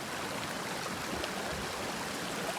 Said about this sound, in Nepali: गङ्गटा पाउने खोला यही हो